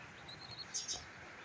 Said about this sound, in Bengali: এই যে আমার কোয়েল পাখিগুলো দেখতেছেন